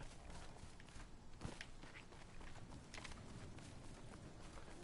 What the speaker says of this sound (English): I feel like I keep hearing footsteps